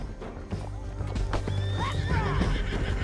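A horse whinnies and neighs over rhythmic clip-clopping hooves in the Western video game Red Dead Redemption 2, close and clear, with a loud neigh rising in the middle.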